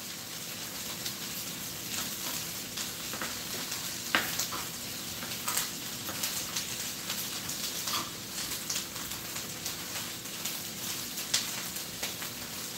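Onions, pepper and garlic fry in a pan with a steady, dense sizzle and crackle that holds at an even level throughout, with occasional sharper pops and stirring scrapes and no talking.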